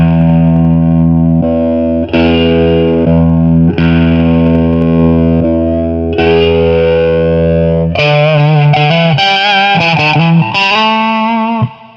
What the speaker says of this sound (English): Sounds like a flanger to me.